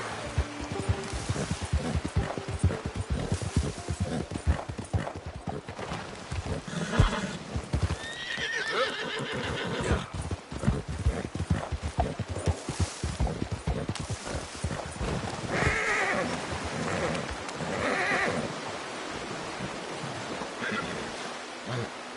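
Horse hooves clip-clop in a steady galloping rhythm, with neighs and whinnies over the running hoofbeats, in the video game Red Dead Redemption 2.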